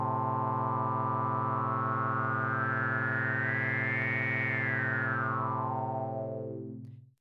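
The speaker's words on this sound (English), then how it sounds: "when you apply wave shaping, it sounds like opening up a filter" A resonant saw waveform on a MicroMonsta synth with wave shaping applied, one sustained note whose bright resonant peak sweeps up and back down like a filter opening and closing, then fades out, played alone.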